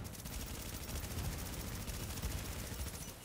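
Gunfire and a grenade shot in The Division, a steady wash of rapid distant shots and blasts, fairly faint, with no clear single bang standing out.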